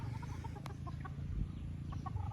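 Gamefowl chickens on a farm giving soft, repeated clucks over a steady low background hum, moderately close with no voices.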